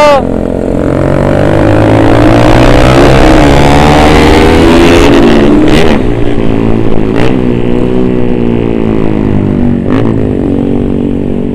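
Yamaha R15 motorcycle revving its loud exhaust on a busy main road, engine pitch climbing and falling in repeated throttle blips alongside other traffic, with people talking over it.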